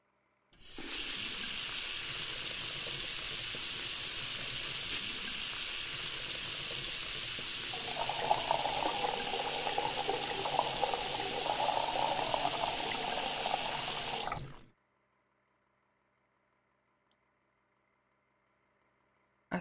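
Water runs steadily from a tap into a jug in the Cooking Simulator video game, a loud continuous rush for about fourteen seconds whose pitch shifts partway through as the jug fills, then cuts off abruptly into silence.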